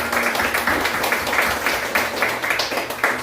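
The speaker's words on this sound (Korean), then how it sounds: "우리 두 분 위해서 박수 한번 주시기 바랍니다." A church congregation claps steadily for a newlywed couple, a dense, continuous round of applause filling the room at even loudness for several seconds.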